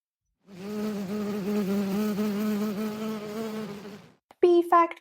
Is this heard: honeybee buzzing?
yes